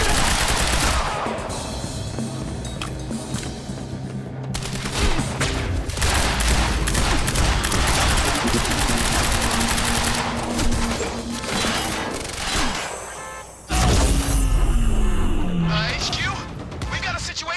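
Sustained automatic gunfire from a Quantum Break firefight rips almost continuously for most of the stretch, loud and dense, with a brief drop near the end before it resumes, and voices are heard over the shooting.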